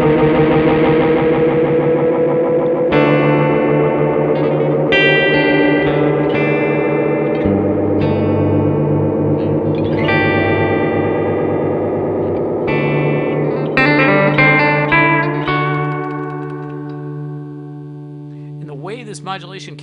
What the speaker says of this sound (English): This modulation carries on kind of in the background or under our notes has a very strange delay-like quality